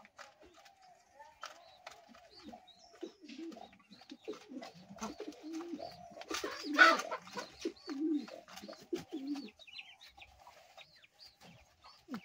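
Pigeons on a pigeon farm coo in soft, low, repeated throaty phrases, close and fairly quiet, with a slight flutter of activity midway through.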